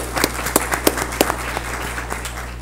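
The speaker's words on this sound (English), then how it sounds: "I'd just like for us to give Prince George's County Public Schools another round of applause." Scattered, fairly sparse hand clapping from attendees at a Board of Education meeting for Prince George's County Public Schools, individual claps standing out over a steady low hum.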